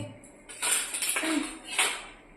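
Hot rice is served onto a plate, and a few soft clinks of a serving utensil against dishes sound close by, with no talking.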